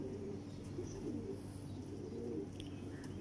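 Teddy pigeons coo softly in the background, a faint low murmur of calls over a steady ambient hum.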